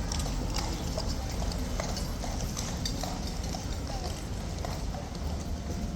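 Horse hooves clip-clop in a steady, busy rhythm as the animal moves off, heard amid a loud crowd murmur that runs throughout.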